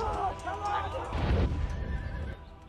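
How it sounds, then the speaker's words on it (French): Horses neigh in a loud burst of several overlapping whinnies, close and strained, with a busy background of voices and movement underneath. "Les 16 chevaux de von Guericke n'ont pas fait mieux"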